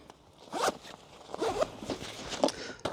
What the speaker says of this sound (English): Just a standard horseshoe zipper.